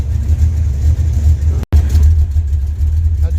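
A car engine running for the first time in 26 years roars loudly and steadily at close range in an echoing enclosed space, with a brief dropout midway and no talking over it.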